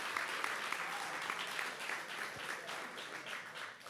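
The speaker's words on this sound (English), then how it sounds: "Let's do a big clap to get the people in from the other room." A conference audience at a cellular agriculture industry event claps in a dense, steady round of applause that holds at an even, fairly loud level throughout, with no talking over it.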